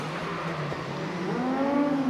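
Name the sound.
drift car engine revving during a drift battle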